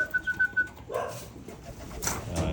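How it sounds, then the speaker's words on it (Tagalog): A pigeon kept for free-flight training gives a series of about five close, soft, rhythmic coos, followed by rustling and shuffling movement nearby. "Ito pala si Avatar mga kalapatids."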